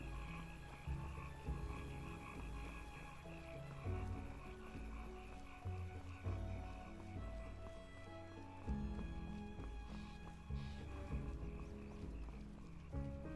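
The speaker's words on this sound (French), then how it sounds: "Les grenouilles aussi." Frogs croak in a forest ambience in the Enderal mod for Skyrim, a steady low chorus mixed with hoof-like clopping and game music, faint and continuous with no talking over it.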